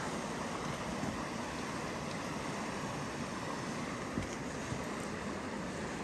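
Water of the South Santiam River spills over a small waterfall in a steady, faint broadband rush, with no voices.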